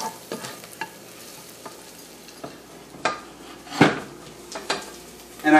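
Onions frying in a pan while being stirred, a soft low sizzle broken by several sharp scraping and clinking strokes of a utensil against the pan, close and fairly quiet, with no talking.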